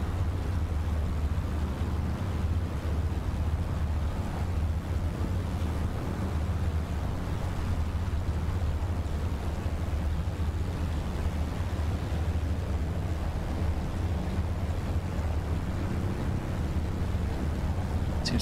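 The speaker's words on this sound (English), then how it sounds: "Now we do have a pretty heavy wind out here today." Heavy wind, about 18 knots down the runway, at an eSTOL competition in Microsoft Flight Simulator: a steady, loud, broadband roar without a break.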